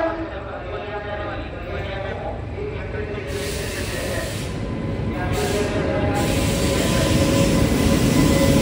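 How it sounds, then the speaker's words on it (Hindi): An Indian Railways Janta Express passes on a diverted route while the Cantt station is being redeveloped. A broad, rattling rumble of wheels and coaches builds steadily louder and stays close and heavy throughout. "कोई बहुत बढ़िया ट्रेन आ रही है, स्किपिंग कर रही है।"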